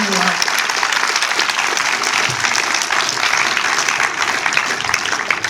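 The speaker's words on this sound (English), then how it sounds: "we'll give the guys a round of applause" A festival audience applauds steadily after a film Q&A, a dense, continuous clapping that fills the room at even loudness throughout.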